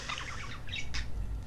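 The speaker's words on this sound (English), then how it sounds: "there's the budgie" A pet budgie squawks and chirps up close, a scratchy run of calls followed by two sharper bursts, with no talking.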